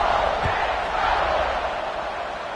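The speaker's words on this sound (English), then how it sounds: "this crowd is buzzing after that last score" Stadium crowd at a football game keeps up a loud, steady buzz, a dense wash of many voices that holds without a break.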